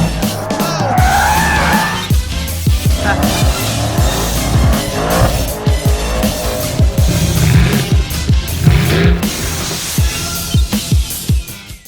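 A Mercedes-AMG E63 S coupe driving hard, its engine loud and close with revving surges, gear shifts and bursts of tire squeal running throughout, no talking.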